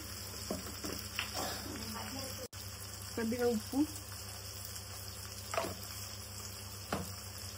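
Onions frying in oil for mirchi ka salan, with turmeric and salt added, give a low, steady sizzle under a noisy background, with a few soft pops and stirring clatters scattered through.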